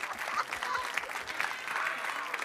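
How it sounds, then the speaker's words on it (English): An audience at a Rome press conference for Fast X claps steadily and fairly loudly for a couple of seconds, a dense patter of many hands. "I'm going to applaud that"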